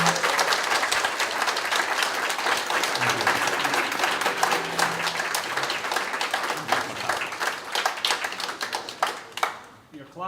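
A fan forum audience of Whitley Warriors ice hockey supporters gives a loud, sustained round of applause as the new head coach and general manager are introduced, with dense clapping that tapers off near the end.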